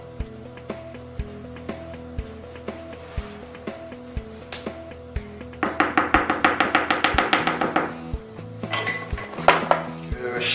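A utensil scrapes and taps against a baking tray as cornbread batter is spread evenly, with light intermittent knocks and then a denser run of rapid scraping strokes close by, no talk.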